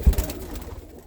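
A couple of low cooing pulses open at the start, then a softer murmur from roller pigeon cocks gathered in a loft, fading toward the end.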